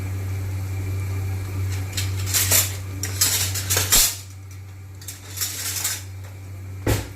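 Spoon scraping and clattering against a pan as colocasia is stirred and fried with mustard seeds and cumin, in irregular loud bursts over a steady low hum, with no talking.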